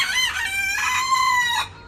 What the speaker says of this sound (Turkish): Bırak horozu.